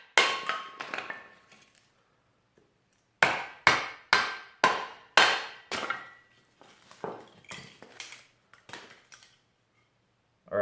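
A 4-pound hammer strikes hardwood set on a kindling cracker splitter, giving sharp, close, woody-metallic knocks. A few scattered hits come first, then a rapid run of about a dozen evenly spaced blows, each with a brief ringing decay, and no talking.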